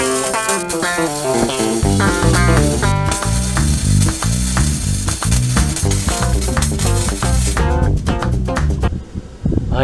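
Welding a broken steering rod on a ride-on mower gives a loud, close, crackling buzz in rapid sputtering bursts that cuts off near the end into near silence.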